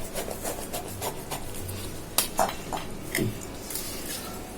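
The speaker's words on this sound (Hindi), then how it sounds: "बर्तन मांज के ना ऐसे लगा देती हूँ" Household utensils and pots being scrubbed and rubbed while washing dishes in a home kitchen, a series of rasping scrapes and light clinks, close and fairly loud, no talk.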